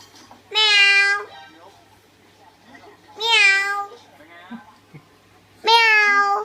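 A human voice imitating a cat's meow, three drawn-out, clear mews spaced a couple of seconds apart, close and fairly loud against a quiet background.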